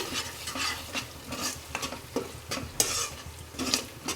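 Fish curry masala roasts in oil in a pan, steady sizzling broken by rhythmic spoon scrapes about twice a second, close and moderately loud, without talk.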